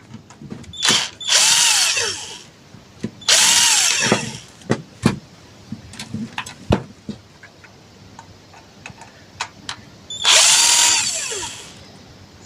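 A power screwdriver backs screws out of a satellite receiver casing in three loud whirring bursts, with small clicks and taps of handling in between, close up and without talk.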